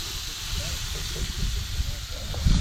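Lamb shanks seasoned with salt and pepper roast over heat outdoors at sunset, giving a steady broadband sizzle and hiss with small crackles and low rumbling underneath, continuous and fairly close.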